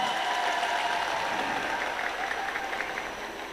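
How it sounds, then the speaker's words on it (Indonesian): A large audience applauds at an Islamic boarding school anniversary celebration in Sleman, a steady wash of clapping that holds evenly and fades slightly toward the end. "tepuk tangan untuk Mas Gibran."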